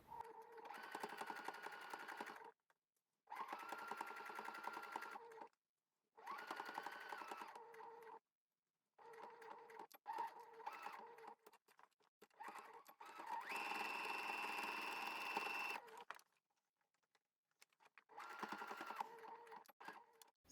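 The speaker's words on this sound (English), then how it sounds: "put it on top of our shirred piece and top stitch" A sewing machine runs top stitching on a jeans waistband over a shirred piece, in about six separate bursts of steady whirring, each lasting a second or two, with short silent pauses between them.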